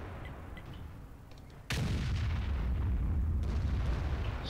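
A single deep, booming cannon blast from a tank in a tank battle video game fires close by, followed by a sustained low rumble of engine and battlefield noise.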